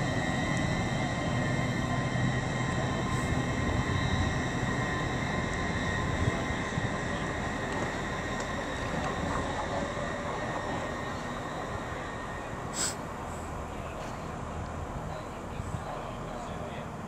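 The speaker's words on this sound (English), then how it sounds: "getting ready to depart will be the 12:53 LNER service to Leeds" An LNER service pulls away from Peterborough on the East Coast Main Line, bound for Leeds, with a loud, steady, broad rumble running the whole time and a brief high tone partway through.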